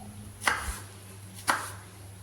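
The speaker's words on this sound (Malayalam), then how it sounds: "നമുക്ക് ചെറിയ പീസായിട്ടൊന്ന് കട്ട് ചെയ്തെടുക്കാം" A knife chops half a cucumber into small pieces on a cutting board, giving two sharp, close cuts about a second apart with no talking.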